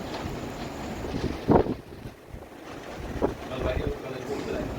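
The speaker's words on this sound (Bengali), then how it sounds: "শুনতে পাচ্ছেন ফুরফুরে হাওয়ার শব্দ" A gentle beach breeze at Mandarmani rustles steadily against the microphone with a soft broadband hiss, swelling in a couple of brief gusts; a voice speaks briefly underneath.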